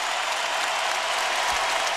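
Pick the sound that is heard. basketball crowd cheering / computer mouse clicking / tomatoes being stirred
basketball crowd cheering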